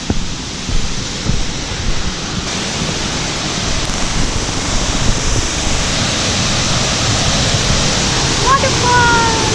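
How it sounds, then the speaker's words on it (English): A waterfall in Meghalaya, northeast India, gives a constant loud rushing roar, broad and close, with gusts of wind buffeting the microphone. "The waterfall behind me."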